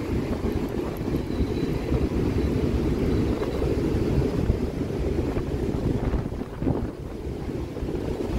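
Steady, broad wind roar with low rumble, constant and loud throughout, like strong gusts buffeting a microphone outdoors on the open deck of a cruise ship at sea.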